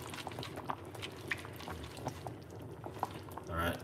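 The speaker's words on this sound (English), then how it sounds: "Just put a little bit of water on it." Water poured onto vegetable stock and noodles while cooking homemade soup gives a faint bubbling, trickling liquid sound with small splashes and a louder pour near the end.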